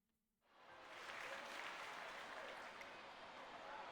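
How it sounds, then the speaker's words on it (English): Thunderous crowd applause in a racing video game swells in quickly after a brief quiet moment and then holds as a dense, steady clapping roar. "The crowd bathes the dark-haired conqueror of the Air Grand Prix with thunderous applause."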